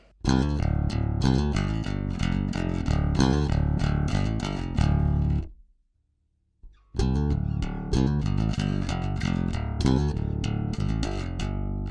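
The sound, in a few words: clean bass guitar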